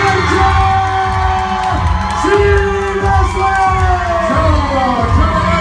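Loud, dense crowd of shoppers and young fans cheering, whooping and shouting continuously at a singer's in-store appearance at the Shopping Valley mall in Romagna, with an announcer's amplified voice running under the roar.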